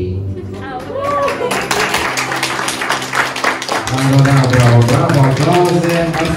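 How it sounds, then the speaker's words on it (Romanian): Wedding guests at a celebration in Strășeni break into scattered clapping that builds into fuller applause, mixed with voices and festive background noise. "Bravo, aplauze"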